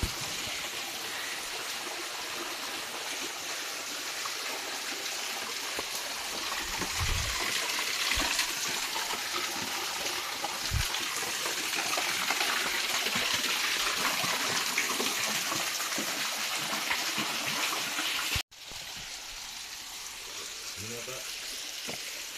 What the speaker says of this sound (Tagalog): So, may mini falls naman dito mga ka-idol.